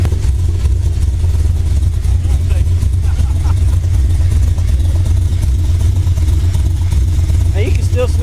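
A 2010 Camaro SS V8 with fresh headers idles loudly and steadily close by, a constant deep rumble with no breaks, while voices talk over it.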